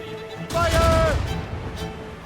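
A naval gunfire volley booms from ships in Assassin's Creed Rogue, a dense rumbling burst of shots lasting about a second amid shouted voices and background wind and waves.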